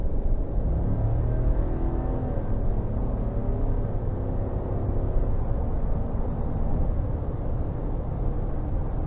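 Interior drone of a 2022 GMC Sierra 1500 AT4X pickup with its 6.2 liter engine under throttle, a steady loud low rumble filling the cab for the whole stretch with road noise mixed in and no talking.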